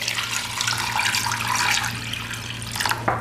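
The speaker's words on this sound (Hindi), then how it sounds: "और इसमें पानी डाल के" Water pours from a tap into a bowl of chicken pieces marinating in salt and vinegar, a steady splashing stream that runs for a few seconds, alone and fairly close.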